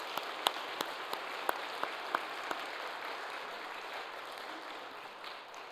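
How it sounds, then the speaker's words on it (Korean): A church congregation at a Sunday worship service applauds, the crowd clapping faint and distant as a soft wash, with a few sharper individual claps standing out early before it fades to a low murmur. "우리 영광의 박수를 우리 하나님 앞에 한번 올려드리도록 하겠습니다."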